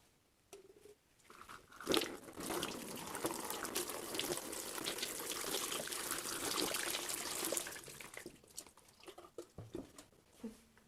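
Two liquid mixtures, one of cold water and one of warm water, poured into separate containers for a heat exchanger experiment, giving a steady splashing trickle of moderate loudness with a few clinks at the start and end.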